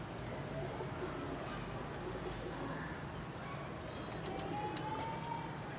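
Pigeons perched overhead, with soft cooing and calls at a modest level inside a constant, busy background hum and what sounds like nearby talk.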